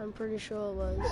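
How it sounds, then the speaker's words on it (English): A pet dog barks and yips in the background at home, with short harmonic yelps recurring under continuous nearby speech. "Sorry about my dog in the background"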